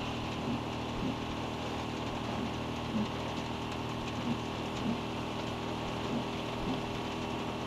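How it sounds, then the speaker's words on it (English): Steady rain hiss in Far Cry 6 gameplay, a constant wash of falling water with a low engine-like hum beneath and faint periodic thumps, no talking. "Oh, it is raining. Oh, I see the rain."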